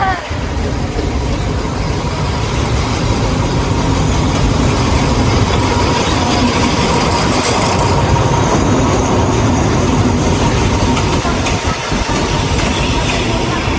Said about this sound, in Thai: ก็ออกจากสถานีรถไฟหัวลาโพงนะครับผม